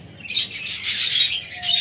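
Pet lovebirds in a new home aviary setup chirp in bright, rapid bursts, a dense flurry of high tweets that continues almost without pause, close and fairly loud with no talking.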